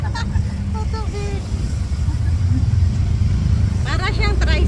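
A motorized three-wheeler idles and rumbles steadily nearby, a low continuous engine drone with people talking over it.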